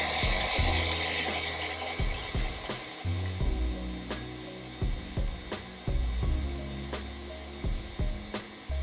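An electric mixer beats peanut butter cookie dough in short bursts, whirring and clattering against the bowl with brief pauses between runs, close and fairly loud.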